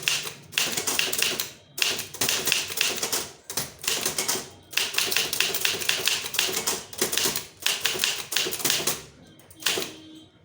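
Dense, rapid bursts of keystrokes from typing a Tamil letter on a keyboard, heard up close with short pauses between runs and no voices.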